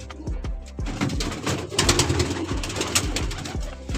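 Pigeons of a Punjabi flying breed coo steadily in a loft in Barnala district, with repeated low throaty calls overlapping one another amid sharper bird chirps and wing flutters, close and fairly loud throughout.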